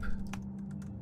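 Computer keyboard typing in the video game Mainlining, a short quick run of close, crisp key taps over a low steady hum.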